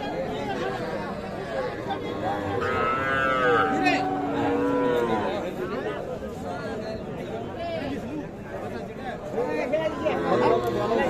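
Young bull calves at Ambari livestock market in January, mooing repeatedly up close amid steady crowd chatter and people talking over them.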